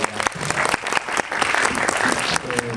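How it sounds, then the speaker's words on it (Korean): An audience at a Korean film screening and talk applauds. The clapping is dense and sustained, with a few voices heard under it. "여러분 박수 한 번 더 부탁드리겠습니다."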